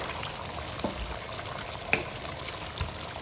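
Bay leaves and rosemary fry in hot oil in a pot for Ghanaian jollof rice, giving a soft, continuous sizzle with a few small pops and clicks, heard close up.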